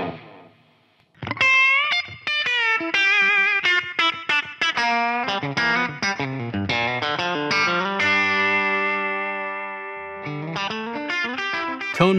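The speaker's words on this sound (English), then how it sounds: "Tonemaster Pro is the first no-compromise multi-effects guitar workstation" Electric guitar played through a Fender Tone Master Pro multi-effects workstation, a busy sequence of picked notes and sustained chords with distortion and chorus-like modulation, loud and close, ending on a long ringing chord before more notes return.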